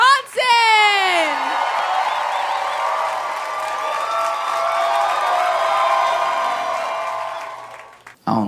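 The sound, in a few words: comedy club audience clapping and cheering for headliner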